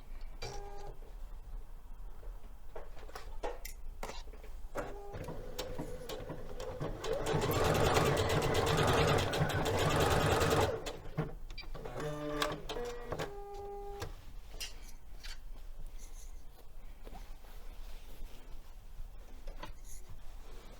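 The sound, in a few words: sewing machine basting a pocket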